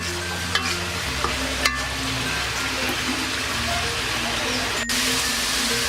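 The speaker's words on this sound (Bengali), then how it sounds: "এখন আমি দিয়ে দেব গরম মশলা বাটা, তারপর আরেকটু নেড়ে চেড়ে" Chicken rezala with thickened gravy being stirred after garam masala paste goes in: a steady bubbling simmer under a low hum, with a couple of spoon knocks against the pot.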